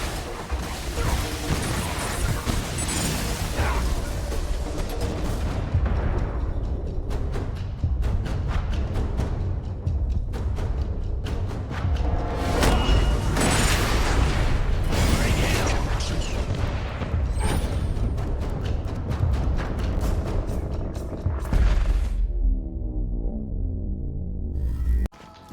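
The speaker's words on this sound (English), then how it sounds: "Launching missiles." Missile launches and explosions in the video game Borderlands 2, a dense, continuous barrage of loud booms, crashes and mechanical blasts with no letup for about twenty-five seconds, close and overwhelming.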